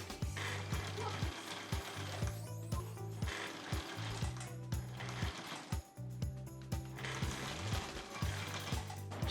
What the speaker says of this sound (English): my sewing machine, and I will be stitching on half of an inch of seam allowance